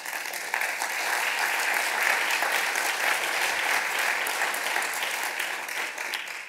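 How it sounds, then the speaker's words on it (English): Sustained applause from an audience at a Freedom Summer event, a dense, even wash of many hands clapping that swells slightly and then tapers toward the end. "You're right to applaud"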